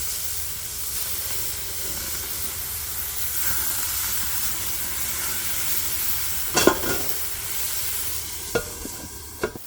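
Mediterranean lemon chicken frying in a pan, a steady hiss and sizzle holding throughout at moderate level, with a few sharp clatters near the end.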